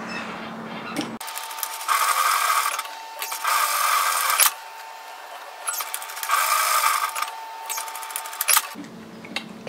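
A domestic sewing machine stitches a 1 cm seam around a fabric coffee-holder bag, running in two sustained bursts of rapid mechanical whirring with brief pauses between them, close and fairly loud, with no talking.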